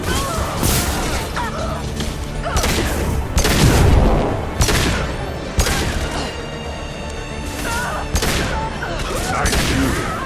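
Gunfire in a Mass Effect 2 firefight among asari, with repeated loud shots and bursts in uneven volleys, heavy impacts and crashes mixed in, and some voices talking between them.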